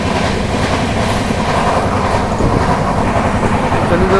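Trains at Anand Vihar railway terminal in Delhi: a loud, continuous rail rumble with rolling wagon noise and faint clatter, heard close and steady, with a brief squeal near the end.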